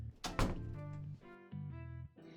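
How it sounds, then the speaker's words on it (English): In the video game First Snow, the main door shuts with a single loud thud early on, followed by sustained tonal music. "the main door shuts with a loud thud"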